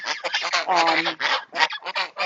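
A flock of geese on a farm honking loudly and continuously, overlapping calls with brief pauses, close by.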